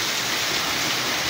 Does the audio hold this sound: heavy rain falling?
yes